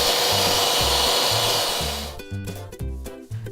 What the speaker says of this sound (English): we're going to whisk this up, and this is going to be our aquafaba